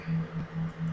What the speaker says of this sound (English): It's the noise of my fan for my computer.